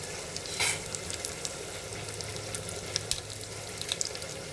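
Mustard seeds and two or three dry red chilies sizzle in hot tempering oil in a home kitchen, a steady close crackle with a few sharper pops and light stirring, no talking.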